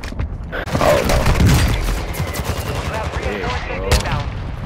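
Rapid automatic gunfire from a Call of Duty match rattles in dense bursts, close and loud, with explosive booms mixed in and a player's voice talking over the shooting.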